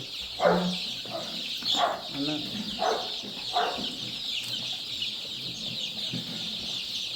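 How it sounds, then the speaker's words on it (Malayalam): Young chicks at a poultry farm give short clucking calls in loose bursts, moderately close over a steady high-pitched background chirping and hum. "നമ്മുടെ പുതിയ കോഴിക്കുഞ്ഞുങ്ങളൊക്കെ"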